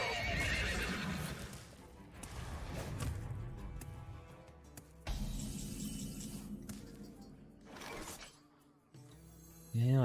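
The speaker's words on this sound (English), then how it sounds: "So the horsey, the ghostly horsey, which I don't have in gold, unfortunately." A ghostly horse card from the Hearthstone video game lets out a loud whinnying neigh with clip-clopping hooves and a shattering burst, followed by further game sound effects.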